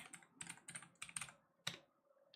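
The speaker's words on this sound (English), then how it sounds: "Do you like the sound of my keyboard?" Typing on a computer keyboard, close and quiet, in quick irregular bursts of crisp clicky keystrokes with brief pauses between runs and a final sharp tap, heard alone with no talking.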